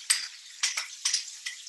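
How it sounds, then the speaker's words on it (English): Tofu sizzles in a hot oiled pan with short bursts of crackling as it is stirred, close and fairly quiet. "I'm going to pop it into my pan and it's going to sizzle."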